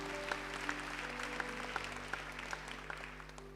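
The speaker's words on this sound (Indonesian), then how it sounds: "sudah bisa tepuk tangan untuk Tuhan Yesus lebih lagi" A church congregation applauds during a Sunday service, a steady patter of clapping from a crowd heard at a moderate distance with a constant low hum underneath, continuing evenly throughout.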